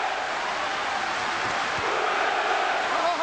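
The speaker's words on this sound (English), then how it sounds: "They're cheering downstairs. The applause is building." A dense crowd at a boxing match, Lennox Lewis vs Evander Holyfield, roars and cheers steadily in a large hall, with a continuous wash of voices and applause that swells slightly toward the end.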